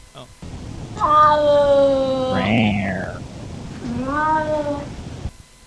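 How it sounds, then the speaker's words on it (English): A house cat lets out two drawn-out meows, the first long and wavering, the second shorter, close and clear in a quiet room. "My cat is trying to get my attention."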